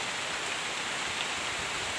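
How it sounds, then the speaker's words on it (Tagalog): Light rain falls in a steady, even hiss that holds constant for two seconds with no individual drops standing out. No voices can be heard. "Ulan lang siya ng kunti."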